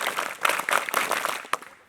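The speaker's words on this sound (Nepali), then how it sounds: "सरहरूको सम्मानमा स्काउटले स्काउट पञ्च तालीले सम्मान गर्ला।" Scouts at a scout graduation ceremony give their five-clap applause as a group, a run of sharp claps in a quick rhythm that fades away by the end.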